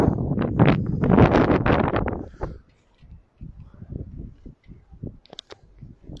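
Wind buffets a microphone outdoors at a street demonstration. Loud, rumbling gusts fill the first couple of seconds, then drop away, leaving quieter murmurs and scattered sounds.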